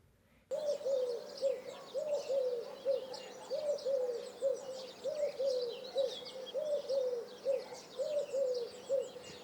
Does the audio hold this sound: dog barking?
no